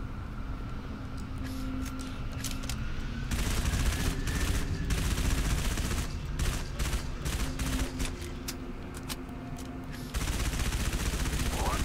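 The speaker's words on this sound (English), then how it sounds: "that turret has us pinned" Rapid turret gunfire and other weapon fire in Halo 3 ODST, on the Coastal Highway mission at Legendary difficulty, heard as a dense, continuous barrage with loud bursts and under battle noise.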